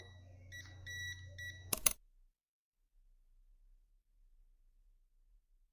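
A multimeter in non-contact voltage mode, held near an extension-cord outlet, gives three short electronic beeps. A brief clack follows, then near silence.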